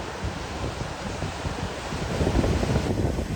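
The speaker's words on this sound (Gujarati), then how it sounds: "મોજા કેટલા ફાસ્ટ આવવા માંડ્યા હે" Sea waves surge and wash along the shore near the Dwarka lighthouse, a steady roar that swells louder toward the end, with wind buffeting the microphone and no voices.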